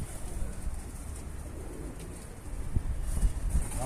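Pigeons coo softly in the open, several escaped birds returned together with young ones flying nearby, low murmuring calls over steady outdoor background noise with a few louder flutters near the end.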